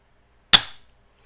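A Rave 140 drop-in trigger breaks during dry fire, giving one sharp, loud click with a brief tail, alone against near silence.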